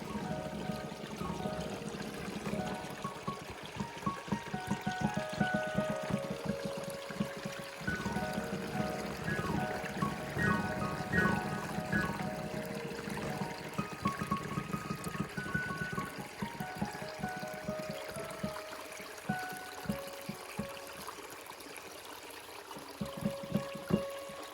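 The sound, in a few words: creek water flowing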